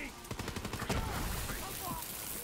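Rapid gunfire in the video game Borderlands 3, a dense burst of repeated shots that merges into a continuous roar, loud and close, with a voice briefly over it.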